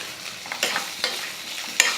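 Potato pieces frying in hot oil for a Tamil potato varuval, stirred with a spoon: soft steady sizzle with several brief scraping stir clicks, close and moderately quiet, no talk.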